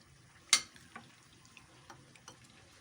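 Chicken is mixed with a marinade and hot sauce in a bowl, giving one sharp clink followed by faint, irregular soft clicks and wet stirring noises up close, with no voices.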